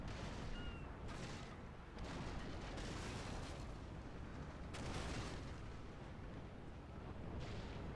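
Ship cannons in Napoleon: Total War with the Darthmod mod fire round shot during an Ottoman-versus-Spanish naval clash, sounding as repeated heavy booms every second or two over a continuous battle rumble, with no talk.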